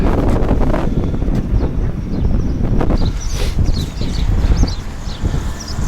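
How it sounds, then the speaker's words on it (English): Strong wind roars continuously across the microphone in heavy, rumbling gusts at the coast by Saint Ives Head, Cornwall, with faint bird chirps high above it. "It's windy enough."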